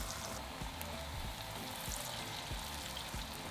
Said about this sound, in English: Repeat so you've got 4 or 5 bhajis frying at the same time.